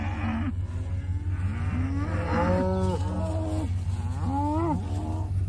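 Cattle low and bellow repeatedly in a pasture during rotation, several drawn-out moos overlapping close by over a steady low hum, with no talking.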